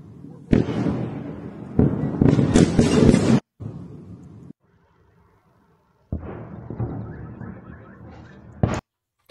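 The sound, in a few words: explosions from bombardment in Belgorod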